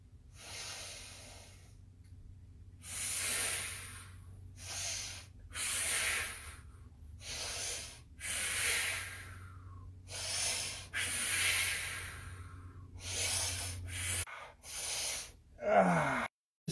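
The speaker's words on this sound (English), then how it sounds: "Try to breathe in through your nose. Always, always, always through your nose." Sharp nasal breaths drawn in through the nose during a body-conditioning exercise, repeating in a steady rhythm of loud, close inhales and exhales with no talking.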